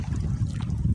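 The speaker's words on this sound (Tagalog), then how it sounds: "malakas ang hangin" Gusty wind buffeting the microphone with low rumbling while fishing on the water, with water sloshing faintly underneath, steady throughout without voices.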